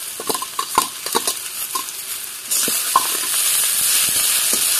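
Spinach goes into a pan of potatoes fried in oil: a few scrapes and clinks of stirring, then a loud, steady hissing sizzle that swells and continues close up to the end.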